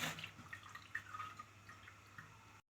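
Water drips and trickles faintly from a wrung-out cloth while making homemade rasgulla, giving a few soft, irregular drops in a quiet room.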